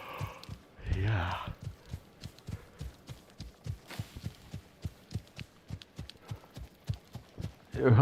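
Rhythmic video game horse hoofbeats pound at a steady gallop, a quick even thudding pattern, with brief voices and rustling at the start and end.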